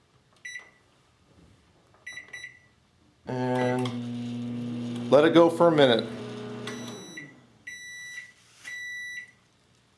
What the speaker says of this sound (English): Now I'm going to shut my microwave off.